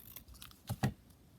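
Scissors snip through paper for a junk journal, two quick close cuts a moment apart, soft and quiet against a faint room background.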